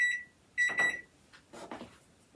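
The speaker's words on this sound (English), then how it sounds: "Okay, there's our timer." A kitchen timer beeps in two short bursts of rapid electronic tones in a home kitchen during sourdough bread making, followed by faint handling noise.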